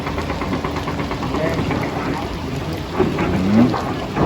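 Steady rain patters close by with a low rumble of thunder underneath, and a voice briefly murmurs in the background.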